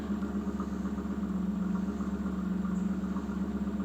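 A 1991 Pontiac Firebird engine idles smoothly after an idle air control valve adjustment, with a steady, even low burble that holds constant at close range.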